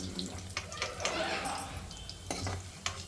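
Peanuts are fried in oil in a pan, with a steady sizzle and clattering stirring. Scattered utensil knocks sit close by, and a faint voice may be present.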